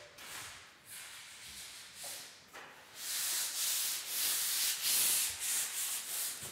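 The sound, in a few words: drywall worker sanding a ceiling before painting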